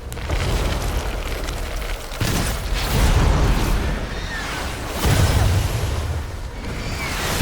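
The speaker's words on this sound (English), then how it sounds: "Look at the pretty explosions" Loud, continuous rumbling explosions in the final World of Light cutscene of Super Smash Bros. Ultimate, with heavy low booms swelling in several waves over a dense roar and no talking.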